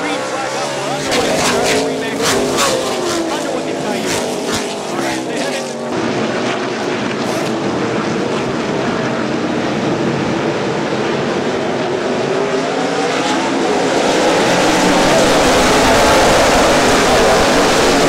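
ARCA race cars roar past at Cayuga Motorsports Park in Ontario, Canada, a loud sustained engine drone that swells and builds as the field gets underway, with announcer commentary.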